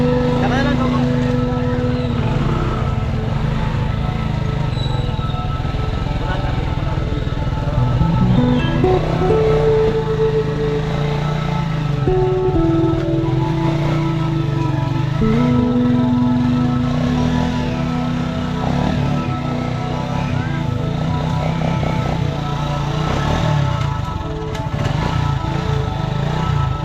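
A motorcycle arriving home, its engine running and shifting in pitch throughout, audible beneath ongoing conversation.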